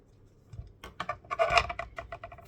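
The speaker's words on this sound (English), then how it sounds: "Just cut some of these ends off." Scissors snip off thread ends on a junk journal page, a close cluster of small crisp cuts and rustling paper scratches in quick irregular bursts.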